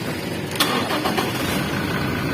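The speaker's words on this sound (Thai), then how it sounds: "เราเหยียบเบรคเข้าไปเลย แล้วก็สตาร์ทได้เลย" Toyota Revo pickup engine cranking over with a push-start button and catching into a steady idle, a sharp burst at the start followed by a continuous mid-pitched rumble close to the microphone.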